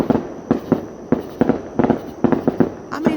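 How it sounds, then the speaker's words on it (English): Fireworks at a large show burst in a quick irregular series of sharp booming cracks, about a dozen in three seconds, loud and fairly close, with no talking. "that's a big time fireworks show"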